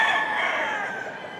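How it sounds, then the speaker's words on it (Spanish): A rooster crows once in a single drawn-out call that fades gradually, heard fairly close with no other sounds. "tú estás viendo el gallo"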